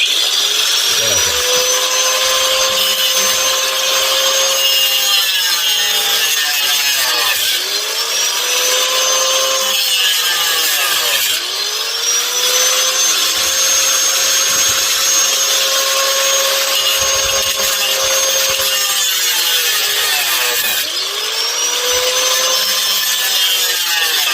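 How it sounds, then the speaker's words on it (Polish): A power sander whines continuously on light, brittle wood, with its pitch dipping and rising as it bears down and eases off, loud and close throughout. "dlatego ja wolę wybrać szlifierkę, bo drewno jest wrażliwe, kruche, lekkie drewno"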